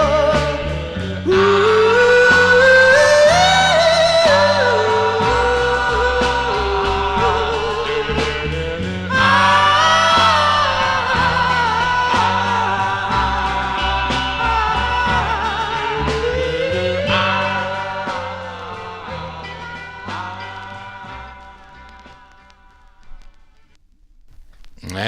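Early-sixties vocal group harmony record from January 1963, playing loud and full with lead voice over backing harmonies and band, fading out near the end.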